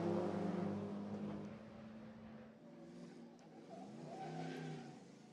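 Race cars, likely historic machines, rush past on a circuit at Angoulême, engines roaring loud and close, then fading, followed by a second wave of revving engines sweeping by.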